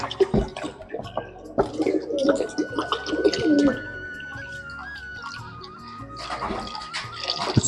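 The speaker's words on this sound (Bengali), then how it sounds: "দেখো এসব পায়রাগুলো চলে এসছে" Pigeons coo in soft, repeated calls at close range, mixed with small splashes and drips of water being set out for them.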